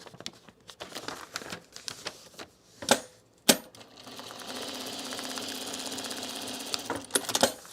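Home sewing machine stitching a trouser dart shut, a steady whirring run in the second half after a few sharp knocks and handling sounds, close and alone with no talk.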